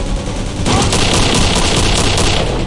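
Gunfire from the player's gun in Return to Castle Wolfenstein, a loud, continuous rapid burst of automatic shots that starts after a brief moment of noise and holds steady to the end.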